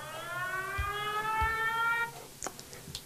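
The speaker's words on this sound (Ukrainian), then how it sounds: "Повітряна тривога." An air raid alert siren sounds as a steady tone with stacked harmonics, loud and sustained for about two seconds before cutting off, followed by a few sharp knocks and clatters.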